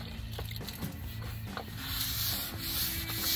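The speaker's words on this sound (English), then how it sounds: "So we'll come back to this after you're done doing this wet sanding." Wet sanding with 500 grit sandpaper on a 1978 Chevy Malibu race car body makes a quiet, steady rubbing scrape with repeated back-and-forth strokes, heard close and alone.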